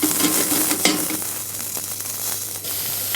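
Aromatic vegetables sizzle in a teaspoon of olive oil in a saucepan, a steady close frying crackle with brief bursts of stirring and no voices.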